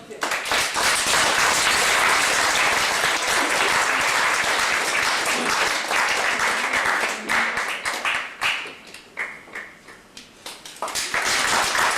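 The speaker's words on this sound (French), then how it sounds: "Voici Pauline et Janine qu'on applaudit bien fort." A large theatre audience applauding loudly and continuously, a dense crackle of clapping that thins out and dips near the end before swelling again.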